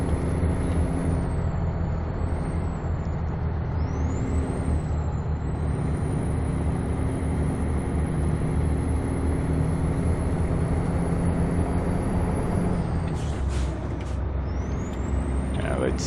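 Truck air brakes in the video game American Truck Simulator, sustained heavy engine and road rumble with hissing air bursts and a rising whine as the truck slows, with a person talking over it.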